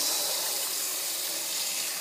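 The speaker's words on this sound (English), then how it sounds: "And then you just fill it up with more water" Steady broadband rush of water pouring from a tap into a container used for washing resin models, continuous and fairly close, with no voices.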